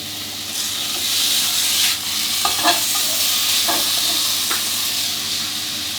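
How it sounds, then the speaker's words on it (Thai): Steady hot-oil sizzle with continuous hissing as glass noodles are stir-fried, broken by a few scraping clicks of stirring in a pan, with no voices. "ผัดวุ้นเส้นกับกระทะน้ำมันร้อนๆสักครู่หนึ่งครับ"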